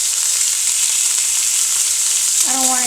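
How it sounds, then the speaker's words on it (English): Salmon sizzles steadily as it sears in a hot frying pan, a loud continuous hiss that holds throughout. "All I want is to sear the fish."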